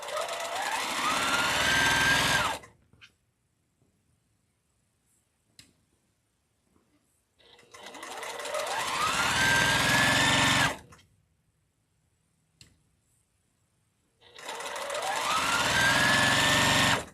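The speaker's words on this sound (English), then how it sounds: "I sew straighter when I sew faster." A sewing machine piecing quilt fabric runs fast in three loud bursts of a few seconds each, with near silence between runs.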